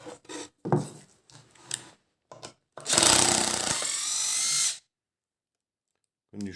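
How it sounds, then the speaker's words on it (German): A power drill backs screws out of an OSB board in a woodworking workshop. Short bursts are followed by one long whirring run of about two seconds, loud and close, with pauses of near silence between. "So, jetzt schrauben wir die Platte wieder ab."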